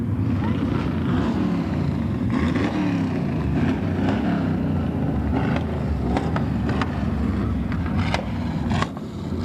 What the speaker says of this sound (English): Men driving those cars that are from Shelbyville and Shelby County.